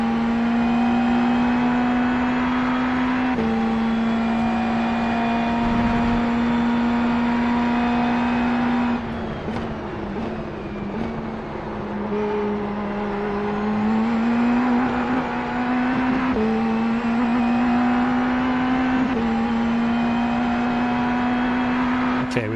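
An Indy NXT race car engine in the iRacing sim drones at a steady high pitch, dipping and climbing through several gear changes midway before settling back to a sustained loud whine.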